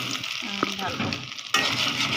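Food sizzles in a hot pan while a utensil stirs it, with a scrape partway through and a louder burst of sizzling afterward.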